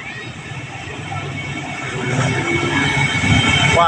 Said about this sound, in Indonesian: Kereta api Ronggojati lewat palang pintu Manunggal Gombong ya.